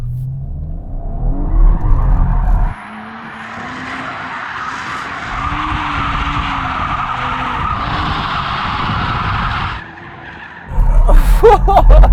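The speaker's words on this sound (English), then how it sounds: "It does start to go straight, so you can't do like a constant donut, but you can spin it around." An Audi RS4 spins around in first gear with its tires skidding: a long, loud squeal of rubber over a droning engine that drops back before a final burst of revving and wheel noise.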